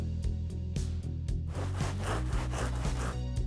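A knife saws through the crisp, flaky outer crust of a baked croissant in a bakery kitchen, giving a steady, close crackling rasp with repeated short crunching strokes.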